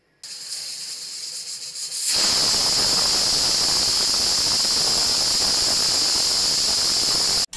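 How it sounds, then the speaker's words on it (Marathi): A pressure cooker cooking vegetable pulao whistles and vents steam. A quieter hiss builds, then a loud, steady, high-pitched rushing whistle starts and carries on strongly for several seconds before cutting off abruptly. "झाल्या कुकरच्या 3 शिट्ट्या."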